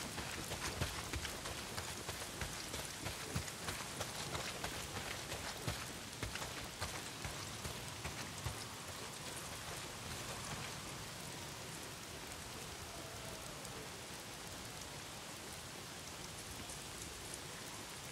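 Heavy rain pouring steadily in the video game Days Gone, a dense continuous hiss of drops on surfaces with faint patter, fairly quiet and unbroken.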